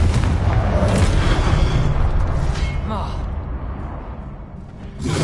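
A Confringo blasting curse goes off in the video game Hogwarts Legacy as a loud, rumbling burst that booms through the first seconds and fades away, with a voice calling out spells over it.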